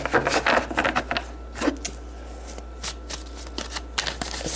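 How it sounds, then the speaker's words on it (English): A deck of large tarot cards riffled and shuffled in quick bursts of crisp slapping, close up, with short pauses between rounds; no talking. "These cards are like bigger than normal tarot cards, so it can get very hard to shuffle them."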